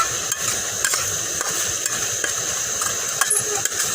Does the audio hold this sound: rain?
no